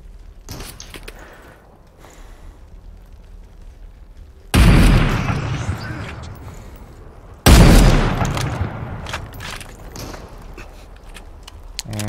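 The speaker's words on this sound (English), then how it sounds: "I'm shooting at the guy at the top left." Gunfire in the shooter Super People, two loud sharp bursts cracking out a few seconds apart and ringing off, with faint scattered thuds and movement between them and no talk.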